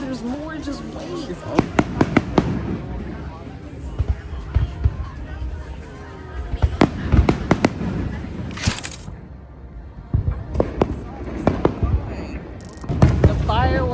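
Repeated sharp booms and crackling bursts of New Year fireworks at Hua Hin Beach, Thailand, loud and close, with a crowd talking and shouting throughout.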